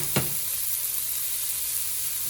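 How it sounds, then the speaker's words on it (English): Chili in a cooking pot sizzles with a soft, steady hiss, and a single brief scrape or knock from a stir near the start; the sound is faint and close. "give it a good stir"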